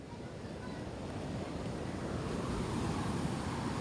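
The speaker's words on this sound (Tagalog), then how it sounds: "Mabaksik talaga ang alon." Rough sea waves break on a shore where fishing boats have been pulled up, a continuous roaring wash with wind buffeting the microphone, heard alone.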